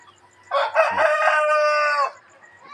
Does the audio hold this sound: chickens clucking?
yes